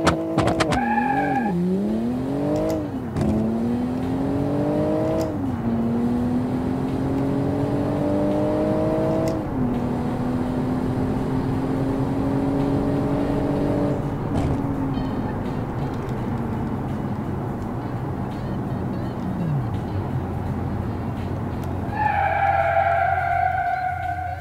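A car in the Automation simulation game making a quarter-mile run and brake test. The engine revs hard through several rising gear sweeps, then tires squeal briefly, followed by a final rev near the end, loud and continuous.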